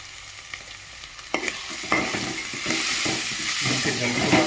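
Onion paste with turmeric is stirred into hot oil, a few sharp scrapes giving way to a rising, continuous sizzle as the mixture fries, close and fairly loud with no talking.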